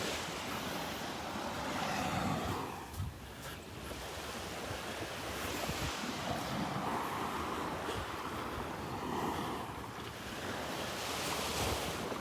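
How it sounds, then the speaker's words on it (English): Gulf waves break on Vanderbilt Beach under a brisk east-northeast wind, a continuous wash of surf rising and falling in slow surges, with wind buffeting the microphone and no voices. "we still do have a little wave action here"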